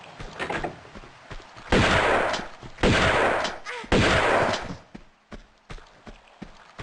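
Three loud, sharp gunshots from the Tomb Raider II video game, evenly spaced about a second apart, each with a broad burst and short decay, among quieter game sounds and scattered footsteps.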